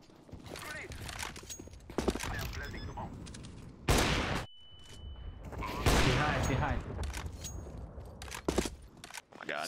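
Rapid bursts of Counter-Strike: Global Offensive gunfire crackle through a busy competitive match, with loud broadband volleys near four and six seconds among scattered shots, clicks and mechanical weapon handling, while a voice talks over it.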